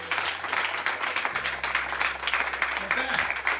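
A church congregation applauds during worship, dense steady clapping throughout, with a sustained low organ or keyboard tone entering underneath partway through.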